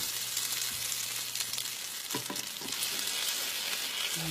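Salmon croquettes sizzle in hot oil in a pan, a constant bright crackling spatter with a few soft clinks and stirs, no voices.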